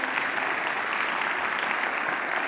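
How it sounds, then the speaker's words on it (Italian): An audience at a regional remembrance day event applauds to welcome arriving students, with continuous, even clapping of moderate loudness and no speech. "li accogliamo con un bel applauso"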